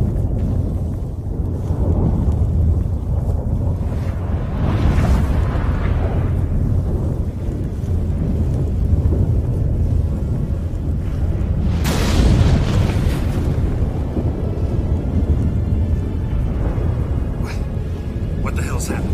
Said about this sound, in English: What the? That a storm?